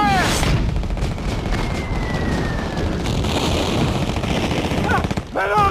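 Loud gunfire and artillery in a Battle of the Bulge combat scene, with rapid machine-gun bursts and heavy booms filling the whole stretch, and a brief dip near the end.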